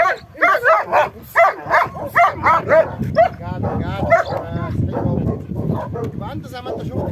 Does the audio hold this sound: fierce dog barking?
yes